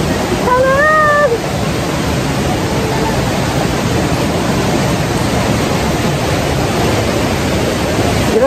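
Ditumabo Mother Falls in San Luis, Baler, Aurora roars as a steady, loud, broadband rush of falling water that stays constant throughout, with a short voice heard near the start.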